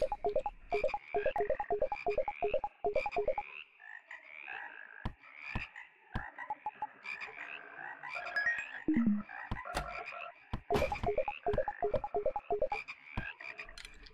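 Frog croaking in the horror video game House, a loud rapid run of rhythmic croaks followed by scattered, irregular croaks and clicks that continue throughout, with no talking.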